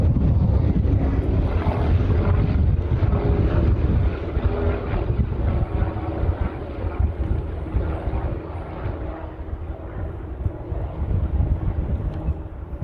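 An airliner departing the airport, a loud, broad roar of jet engines and wind that slowly fades as it climbs away.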